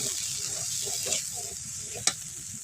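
Onions sizzling and frying in a pan for a fish curry with pangas fish, a steady close crackling hiss with a few louder spits and stirring clatters, a sharp pop near the end.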